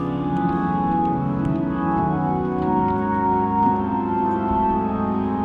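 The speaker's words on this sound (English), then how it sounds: "what you're hearing right now is not your traditional organ, it's actually an electric organ." A Nord electric organ plays sustained chords in a steady, full tone that stays at even volume, with no voices over it.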